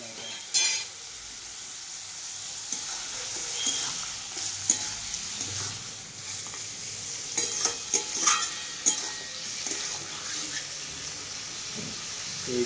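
Tam tum frying in a pan: a soft, continuous sizzle broken by scattered spoon scrapes and clatters, busier in the second half, with no voices.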